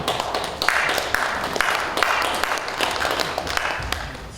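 Applause from a lecture audience, broad and continuous clapping filling the room at a steady, fairly loud level for a few seconds with no voices over it.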